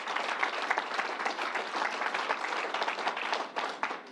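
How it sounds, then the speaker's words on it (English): Dense, steady applause from an audience at a public announcement event at the New York State Fairgrounds, many hands clapping together at close range for about four seconds with no one speaking. "Let's give him a round of applause."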